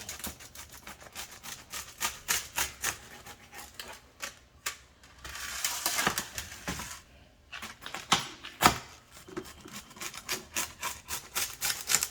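A knife or cutter saws through an apple smoked pork steak pizza, giving a steady scraping, crunching rasp in repeated strokes, close and moderately quiet, with no talking.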